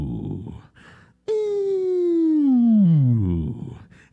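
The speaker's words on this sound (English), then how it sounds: "First, let's start off with the vocal dip." A single sung 'ooh' glides smoothly from a high pitch down to a low one over about two seconds, after a few brief vocal sounds.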